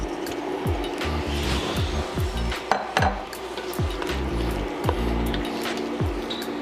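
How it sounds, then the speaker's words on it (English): Shrimp tumble into a pot of simmering shrimp creole with clinking utensils and wet squishing, steady kitchen clatter throughout with a low rhythmic hum underneath. "Now we're gonna add this shrimp."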